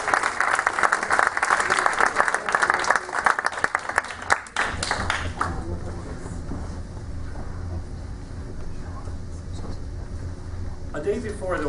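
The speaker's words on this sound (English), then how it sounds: "Please give a round of applause" Loud audience applause at a Palestine cultural festival at Princeton University greets performers, dense and steady for about five seconds before dropping away into a quieter hall with low murmur.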